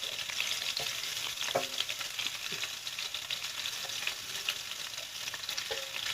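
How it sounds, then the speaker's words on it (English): Garlic sizzles in oil in a skillet over low heat, a steady soft crackle and frying hiss broken by light stirring scrapes, with no voices. "Sauteing the garlic. Don't burn it. Keep it moving around in that oil."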